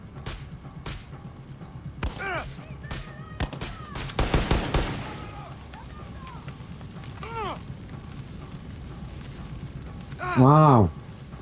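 Gunfire in a first-person shooter game: sharp sporadic shots and bursts, with a dense rattling volley in the middle. The shots play under steady background noise, and game sound effects rise near the end.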